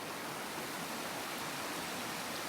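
A river in Scotland flows steadily, a dense, even rush of water with no breaks, quiet overall and heard alone.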